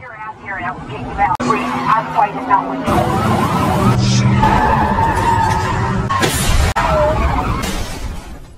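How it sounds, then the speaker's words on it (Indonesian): A car skids and crashes over a mine in an action film scene, with a loud screeching slide, sharp impact bursts and a sustained roar of engine and debris, plus voices in the mix. "Pelarian Reese terhenti ketika mobil yang ia kendarai menginjak ranjau yang dipasang polisi."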